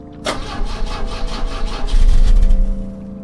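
A car engine cranks repeatedly but does not fire, giving a loud, rhythmic grinding churn that grows heavier midway and then stops.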